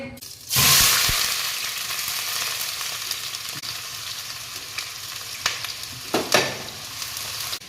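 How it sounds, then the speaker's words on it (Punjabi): Chopped garlic, onion and ginger tempering in hot oil for Punjabi kadhi, a loud steady sizzle that flares up as the pieces hit the pan, with a few stirring clatters later on and no voices. "ਤੇਲ ਵੀ ਹੁਣ ਹੋ ਗਿਆ ਗਰਮ ਤੇ ਇਹਦੇ ਵਿੱਚ ਆਪਾਂ ਨਾ ਲਸਣ ਪਿਆਜ਼ ਅਦਰਕ ਕੱਟ ਕੇ ਨਾ ਫੇਰ ਤੜਕਾ ਲਾਵਾਂਗੇ"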